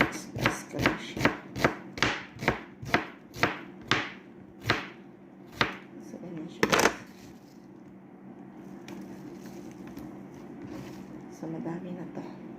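A knife slices onions on a cutting board in about a dozen crisp, evenly spaced strokes that slow toward the end. A few louder knocks follow, then talking continues over quiet handling noise.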